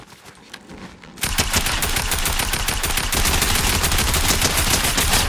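Rapid bursts of gunfire in the Fortnite video game, FBI Tycoon mode, a sustained loud fusillade of machine-gun-like shots that begins after a brief quieter moment and continues densely to the end.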